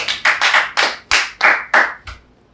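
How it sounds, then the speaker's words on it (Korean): A few people clap hands in a coffee shop, close and loud, in about eight sharp separate bursts with brief gaps, the last one softer as the clapping fades out. "야, 매니저 박수 좀 치죠."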